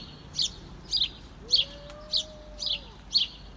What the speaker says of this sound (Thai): ธรรมชาติคือสิ่งสวยงาม เสียงนก เสียงกาสดชื่น